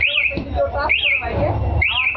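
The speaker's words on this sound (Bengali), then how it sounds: "বাইকে অ্যালার্ম দেবে রিমোটের সিগন্যাল আসবে" A Tesla Ghost anti-theft alarm on a locked motorbike sounds loudly nearby, a warbling electronic siren that rises and falls in repeating cycles of about a second each.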